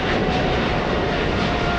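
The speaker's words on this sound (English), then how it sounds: "Noisy plane." A fixed-wing airliner roars past at Los Angeles International Airport (LAX), a loud, close, continuous engine rumble with broadband jet noise that stays steady for the short stretch, with no voices.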